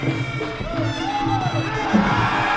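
A crowd cheers and whoops at a Thai Fight League muay thai bout, steady roaring support with scattered shouts rising near the end, under a rhythmic beat.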